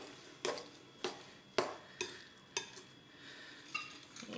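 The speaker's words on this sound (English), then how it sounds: "So just cut through like that, continually turning your bowl around." A utensil cuts through wet scone dough in a bowl as the bowl is turned, giving about eight soft, close scraping strokes at a steady rhythm, with no talking.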